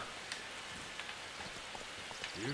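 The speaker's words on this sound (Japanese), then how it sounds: "雪男が雨をもたらした" Rainfall in The Witcher 3: Wild Hunt, a steady faint hiss of drops over quiet ambience for the whole stretch, with a few soft clicks and no talking.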